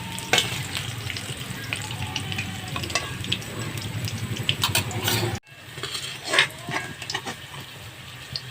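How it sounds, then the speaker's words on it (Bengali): Potatoes fry in hot oil in a pan while being stirred, with a dense, steady sizzle and scraping stirs that drop briefly about two thirds through, then resume a little quieter. "আলুটা 5-7 মিনিট নাড়ার পরে সুন্দরভাবে ভাজা হয়ে গেছে"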